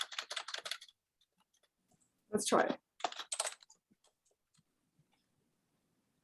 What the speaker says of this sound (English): this is my keyboard. I'm not using an Apple keyboard